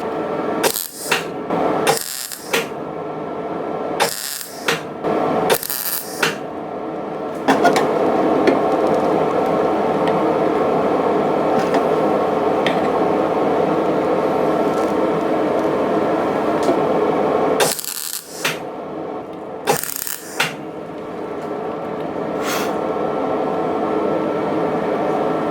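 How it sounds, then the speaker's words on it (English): A metal repair patch is welded onto a rusty Citroen BX. A few short crackling bursts lead into a long continuous weld run, then more brief bursts, all close and loud. "So I'm just gonna start welding it in and forming it along the way"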